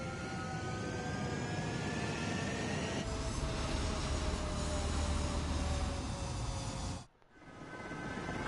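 A military jet in Ace Combat 7 roars down the runway in a steady, loud takeoff whoosh, with the rising engine whine held over a dense rumble before the sound cuts off abruptly.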